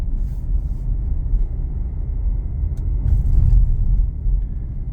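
A car driving along a road through The Villages, Florida, heard from inside as a steady low rumble of engine and tyre noise that swells slightly toward the end.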